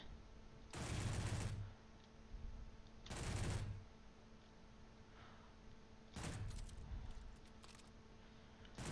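Turret firing in the video game Space Engineers, three separate bursts of rapid gunfire, each about a second long, loud against a low steady background hum.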